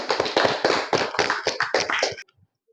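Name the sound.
applause from the class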